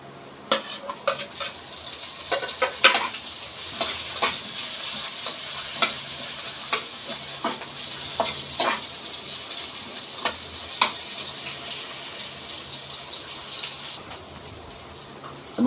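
Sliced onions sizzle in a hot pan while cooking vegetables, with a steady frying hiss under repeated scraping and clinking from a utensil stirring against the metal.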